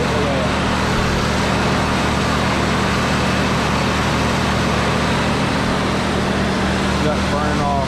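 A traded vehicle's motor idles roughly with a steady low drone and hum, smoke burning off, loud and continuous, with someone talking over it.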